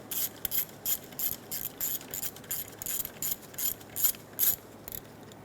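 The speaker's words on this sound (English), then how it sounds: "Remove the 10mm bolt on top of the alternator for the harness bracket." A hand ratchet backs out the 10mm bolt on top of the alternator on a 2003-2007 Honda Accord with the 3.0L V6, giving a steady run of about a dozen crisp, close clicking bursts with no talking.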